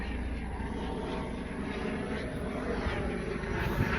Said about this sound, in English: This loud ass helicopter going over me.